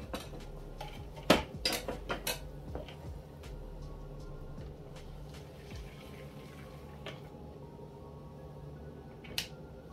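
Homemade Haitian dark chocolate mixture is strained in a kitchen, with sharp metallic clinks and taps of utensils against a pot and strainer, a brief cluster early on, then quieter scrapes and one final clink over low background hum.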